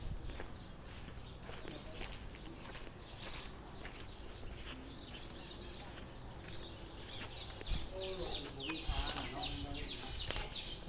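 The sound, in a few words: fighting rooster clucking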